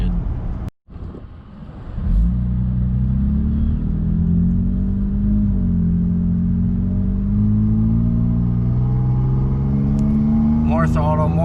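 A 2017 Toyota Tacoma TRD pickup engine revving and accelerating steadily under increasing throttle, a loud, continuous rising drone heard from inside the cab, with a brief dropout near the start.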